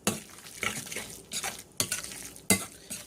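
Softened cream cheese and spinach are worked together in a bowl with a spoon: close, intermittent scraping and stirring strokes, about four distinct pushes with quieter mixing between them and no voices.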